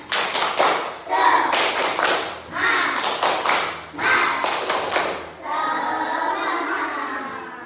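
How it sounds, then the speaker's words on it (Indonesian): A school class performs a rhythmic spirit clap, children clapping together in patterned bursts of quick claps and pauses, with children's voices chanting along between the claps. "Tepuk semangat."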